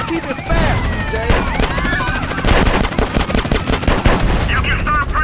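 Rapid bursts of gunfire from GTA San Andreas crackle throughout a drive-by, with loud repeated shots layered over engine noise and voices talking.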